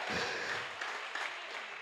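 A church congregation applauds during a sermon, a steady wash of many hands clapping that holds for the whole short stretch.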